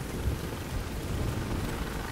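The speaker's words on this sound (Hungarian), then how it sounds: "azonnal elkezd esni az eső, meg köd lesz" Rain pours down steadily across the streets of the video game The Division 2, a constant hissing wash of falling water with no speech over it.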